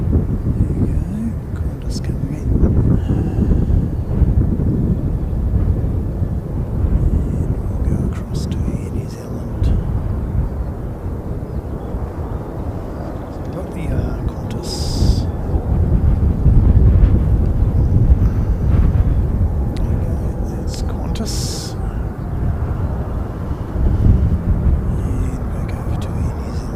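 A Qantas airliner comes in to land, its broad jet rumble rolling steadily at a distance under gusty wind buffeting the microphone, with voices talking now and then.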